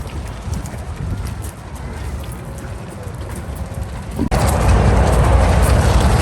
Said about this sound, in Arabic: ده دونكي ده حمار ده.